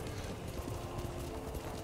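Horse hooves trot through the Ghost of Tsushima game world in a steady, rhythmic clip-clop that carries on without a break under soft ambient background sound.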